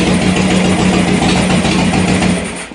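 A Harley-Davidson Sportster motorcycle engine idles steadily with a low, even rumble that holds for a couple of seconds before fading slightly at the end.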